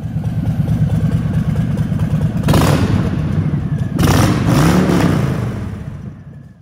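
A 2020 Harley-Davidson Softail Standard idles with a deep, lumpy rumble, then is revved twice in sharp bursts before settling back and fading.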